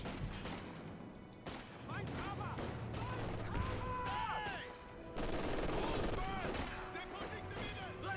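Machine gun fire crackles in short, rapid bursts amid explosions and battle noise in the Company of Heroes 2 strategy game, heard fairly quietly under the continuous din of combat.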